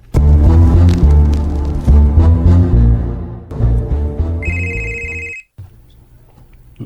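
Phone ringing with an incoming call, loud repeated electronic ringtone bursts in a pulsing pattern, followed by a short high beeping tone before the sound stops.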